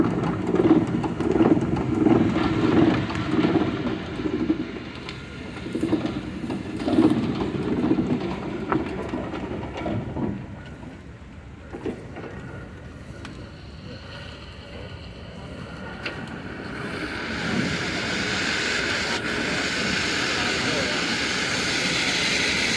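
1905 Kelly Springfield steam road roller running, a loud, steady mechanical rumble and chugging throughout, rising again toward the end, with a voice talking over it.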